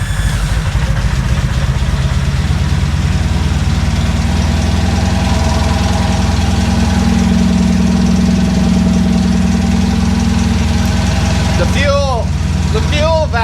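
A 1983 Honda Magna V4 motorcycle engine idles roughly and continuously at close range, with a steady low drone and slight knocking throughout and a brief squeal near the end.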